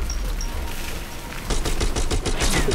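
Gunfire in the VR game Bullet Train, a quick run of loud rapid shots in the second half after a noisy stretch with a couple of faint high tones.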